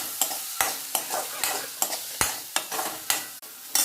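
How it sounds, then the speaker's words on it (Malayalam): Chopped ethan (nendran) banana frying in oil and ghee, with a soft steady sizzle broken by regular scraping strokes of a spatula stirring the pan, close and fairly quiet, no voices. "അരിഞ്ഞു വെച്ച പഴം നമുക്കൊന്ന് എണ്ണയിൽ വരട്ടിയെടുക്കാം"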